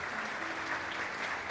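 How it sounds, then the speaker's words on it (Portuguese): A church congregation claps together in a short, dense burst of applause, steady and fairly loud throughout. "dê um aplauso para Jesus aí,"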